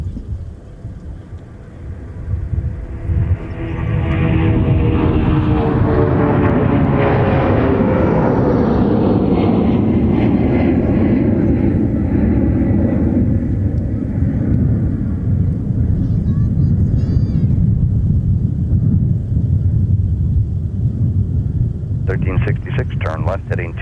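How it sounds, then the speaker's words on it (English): Boeing 757 airliner departing the airport, its jet roar swelling from a distant rumble into a loud sustained climb-out with a pitch sweep as it passes, then slowly fading, with radio voices heard faintly toward the end. "how about a 757 departure thrown in the mix?"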